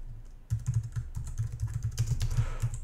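Brisk, close keystrokes on a computer keyboard as code for a Linux driver is typed, an uneven burst of clicks lasting a few seconds with no speech.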